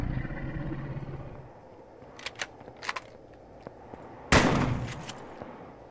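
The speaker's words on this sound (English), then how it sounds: "Ooh, who shot at me?" Enemy gunfire aimed at the player in Empyrion Reforged Eden, a space survival game: a few scattered sharp shots early on, then one louder close blast followed by a decaying rumble, over a low ambient hum.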